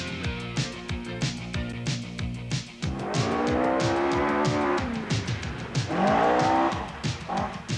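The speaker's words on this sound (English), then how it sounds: "Stewart has again mounted this challenge without any sponsorship for his 2-litre Escort." A 2-litre Ford Escort rally car races through a 1984 New Zealand rally, its engine revving hard through rising gear changes with tyre noise, loud and close, with no voices.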